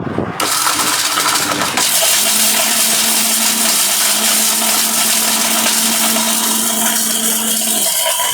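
A powerful steel-bodied electric blender from Steel Bush runs close and loud, a steady high-pitched motor whine with grinding roar that starts abruptly and holds for several seconds before slowing near the end.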